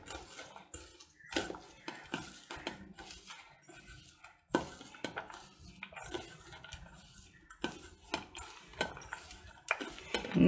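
A spoon clinks and scrapes against a metal bowl while mixing a batter of mashed sweet potato for vada, with irregular close taps and stirring noises and no talking.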